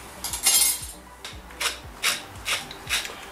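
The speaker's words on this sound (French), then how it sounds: "Quelques tours du moulin. Poivre." A pepper mill grinding peppercorns over a dish, about six separate crunchy rasping twists in a loose rhythm, close and fairly loud, with no talk.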